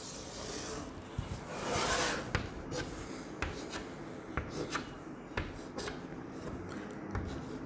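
A pen drawing a line on a board during a geometry lesson gives faint, scratchy strokes that come in short intermittent bursts.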